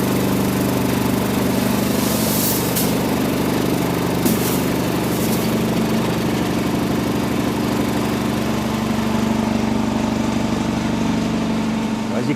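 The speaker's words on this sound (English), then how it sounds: "The rumbler is switched on, and as it immerses around and rumbles around, it actually polishes the component." A vibratory rumbler in a modern plating factory, tumbling a component with ceramic balls to polish it, gives a loud, steady mechanical rumble and whir that continues without a break.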